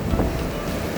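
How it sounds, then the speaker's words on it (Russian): Harsh winter wind gusting along the Crimean seashore near Alushta, a loud roaring rush buffeting the microphone, with the low wash of the sea beneath it and no talking. "Ветер просто адский."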